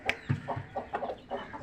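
A broad-bodied rooster with sparse tail feathers, kept in shade on a rainy-season farm, clucks in a steady run of low throaty calls, close and moderately loud, with no talking.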